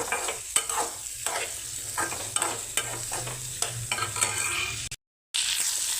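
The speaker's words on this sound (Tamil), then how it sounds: "நம்ம வெங்காயத்தை போட்டு வதக்கிக்கலாம் வெங்காயத்தை போட்டு நல்லா கொஞ்சம் ஒரு அஞ்சு நிமிஷம் நம்ம வதக்கிக்கலாம்" Onions sautéing with curry leaves in a pan for jackfruit seed gravy: close, steady sizzling with repeated scraping stirs, a brief dropout near the end, and no talk.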